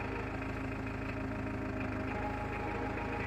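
A Farmtrac 6055 Worldmaxx 55 HP tractor engine runs steadily in third gear, a loud, continuous low diesel drone with an even rumble and no voices over it.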